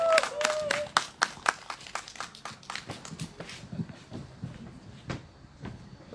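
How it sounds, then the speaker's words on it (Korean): Audience applause at an outdoor candlelight rally, scattered sharp claps that thin out and fade over several seconds, moderately distant. "큰 박수 부탁드리겠습니다."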